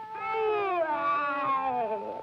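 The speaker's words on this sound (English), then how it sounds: "What are you doing, Black Cat?" A black cat meows in a long, drawn-out, wavering call in a 1963 Canadian children's TV show, one loud close cry running steadily for about two seconds with no talk over it.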